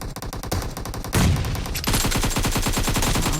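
Rapid automatic gunfire in PUBG Mobile, dense rattling bursts of shots close and loud, with a brief heavier blast before a second sustained volley.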